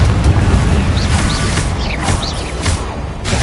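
Confringo blasting spell cast in Hogwarts Legacy, a dense, loud rumbling barrage with booms and crashes and faint whooshing chirps layered through the combat noise.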